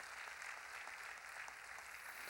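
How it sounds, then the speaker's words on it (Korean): Church congregation applauding during a Korean sermon, a steady, faint wash of many hands clapping at a distance with no voices over it. "박수로 하나님께 영광을 돌립니다."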